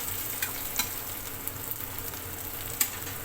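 Boiled potato pieces fry in oil with a constant low sizzle while a spoon stirs and taps against the pan at intervals, close and fairly quiet.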